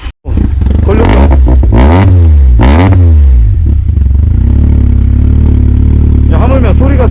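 A 1992 Mazda RX-7 rotary engine, restarted after two years parked, catches with a few sharp revs and then settles into a loud, steady idle close by, with voices talking over it near the end.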